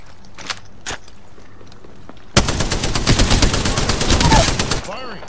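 Rapid automatic weapon fire in the battle royale game Apex Legends, a loud sustained burst of shots after a few scattered sounds, ending abruptly.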